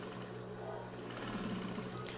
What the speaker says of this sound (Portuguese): Eu vou fazer outra costura paralela para baixo.